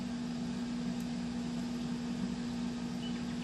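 Steady, droning hum of an air fryer cooking bitter gourds, an even whirring fan tone with a low electrical buzz that holds unchanged throughout, close and moderately loud with no other sounds.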